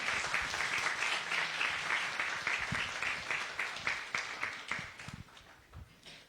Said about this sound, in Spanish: regalen un fuerte aplauso a la doctora Vázquez Piña